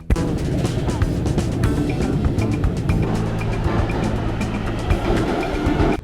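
A London Underground tube train rides along with a dense rumbling, clattering roar, rapid wheel clicks and rattles throughout, loud and close with no clear talk.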